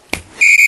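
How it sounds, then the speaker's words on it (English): A short, piercing whistle blast rings out after a brief thump, holding a steady high tone with a slight wavering toward the end. "But when he hears that whistle"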